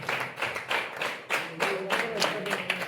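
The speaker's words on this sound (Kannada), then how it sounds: "ಎಲ್ಲರೂ ಚಪ್ಪಾಳೆಯೊಂದಿಗೆ ಅವರಿಗೆ ಅಭಿನಂದನೆಗಳನ್ನು ಸಲ್ಲಿಸಬೇಕಾಗಿ ವಿನಂತಿ" An audience claps at a journalists' association ID card and certificate presentation ceremony, a steady patter of many hands with a voice speaking faintly underneath.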